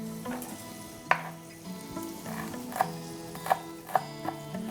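Vegetables fry in oil in a frying pan with a constant crackling sizzle, punctuated by several sharp clanks as the pan is shaken and stirred, close by and without speech.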